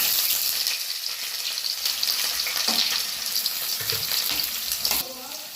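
Onion fries in hot oil in a pan, a loud, dense, close crackling sizzle that carries on steadily with brief stirring movements.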